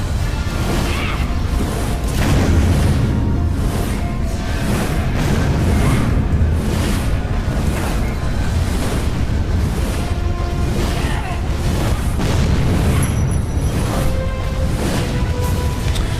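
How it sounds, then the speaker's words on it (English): Stone panels smashed in the video game Tomb Raider Underworld: a run of heavy, rumbling crashes and booms repeating every second or two, loud and close over a dense, continuous bed of game sound with faint tonal notes. "that allows us to smash the"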